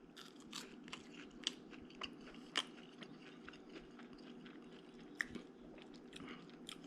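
Close, quiet crunching bites and chewing on crispy-skinned fried Spanish mackerel, irregular crisp crackles with a few sharper bites standing out, no speech.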